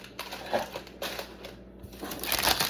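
Parchment paper is shifted aside and crinkled during bread-scoring and baking prep, giving soft papery rustles and crackles in several short bursts at close range, with no talk.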